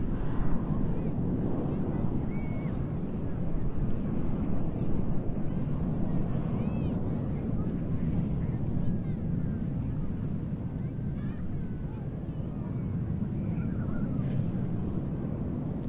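A de Havilland Vampire FB.52 single-engine jet from the Norwegian historical Air Force Squadron displaying at the Eastbourne International Airshow 2025, a continuous loud, broad jet roar with wind buffeting, steady throughout and partly overlaid by a talking commentator.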